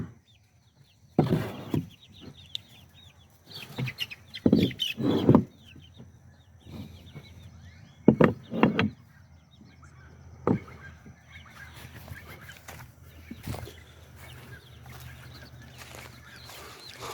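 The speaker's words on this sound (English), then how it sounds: "Keeps the big chickens out." Chickens cluck and squawk in scattered bursts, some loud and close, others softer, separated by quiet stretches.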